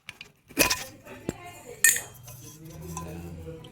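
Old brass utensils clink and clatter as an old box is opened, with a couple of sharp metallic knocks and rattles followed by softer shuffling, close by and otherwise quiet.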